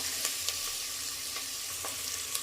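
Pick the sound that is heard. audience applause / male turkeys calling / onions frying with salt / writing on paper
onions frying with salt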